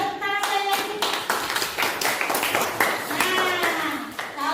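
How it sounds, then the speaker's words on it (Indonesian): A classroom of students claps for the winning group in a math class, with brisk, uneven applause mixed with a few distinct sharp claps and some overlapping voices, fairly loud and close. "Tepuk tangan sekali lagi"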